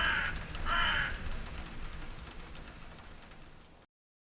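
Two crows caw, harsh calls close together at the start, followed by faint hissing background.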